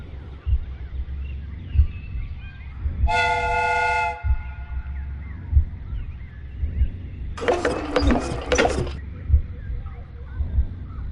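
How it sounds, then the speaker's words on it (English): A steam whistle on a homemade replica steam train sounds two short bursts, a bright harmonic whistle tone followed by a noisier hissing blast, over a low rumbling background. "The steam whistle is ready to be used."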